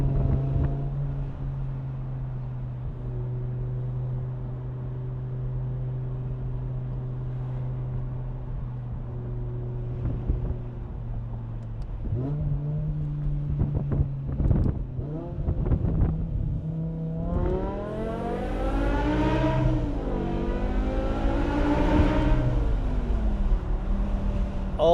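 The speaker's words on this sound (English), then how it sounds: "let you guys hear the V10" A BMW M5's V10 engine drones steadily at first, then revs up through several sharp throttle blips. Passing through an underpass, it builds into loud, rising climbs with audible gear shifts and some wind noise.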